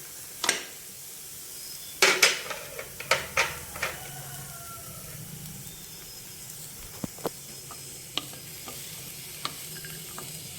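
Capsicum sizzles quietly in a pan with vegetables for quinoa egg pulao, with several sharp scrapes and clinks of a spatula stirring, followed by sparse taps over a soft, steady frying hiss.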